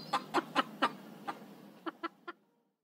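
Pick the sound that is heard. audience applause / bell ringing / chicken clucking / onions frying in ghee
chicken clucking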